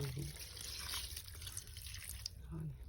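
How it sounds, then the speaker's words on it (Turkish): Water pours onto freshly planted potted succulents and cacti in a soft, quiet trickle that sounds tap-like, with faint voice traces underneath. "ben bunu bir defa sulayacağım."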